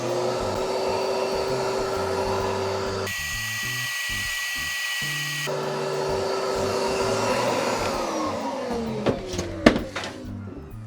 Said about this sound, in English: let me grab my shop vac real quick and we'll vacuum that up